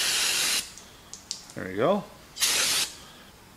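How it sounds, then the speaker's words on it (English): Brake cleaner sprayed from an aerosol can onto hydraulic cylinder parts from a Bobcat T300 skid steer, two loud sustained hissing bursts close by, with someone speaking briefly between them. "you can always spray it off with brake clean"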